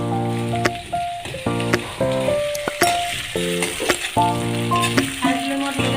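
Crushed garlic and ginger fry in a pan over a low gas flame with a soft, steady sizzle and occasional stirring scrapes, partly covered by prominent background music.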